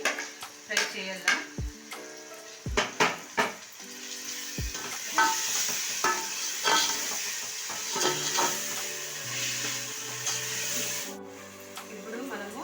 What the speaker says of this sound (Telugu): దీంట్లోనే మనము ఇవి టమోటా వేసేస్తున్నాము. ఇది కూడా ఒక 2 మినిట్స్ అయితే ఫ్రై చేయాలా.